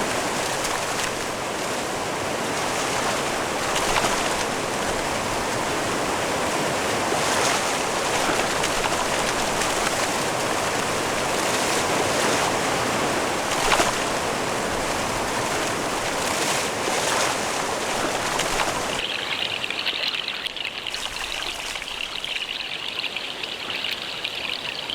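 River rapids and a waterfall on a salmon run rush in a constant loud, close roar of churning water that continues without a break, the tone shifting abruptly near the end to a thinner, hissing flow.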